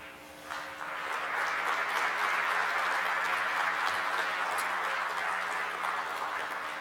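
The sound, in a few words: audience applause after a talk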